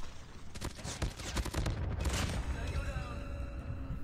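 Rapid gunfire from a weapon in a first-person shooter game, a dense burst of sharp repeated shots that ends in a heavy boom, followed by ringing tones and background game noise.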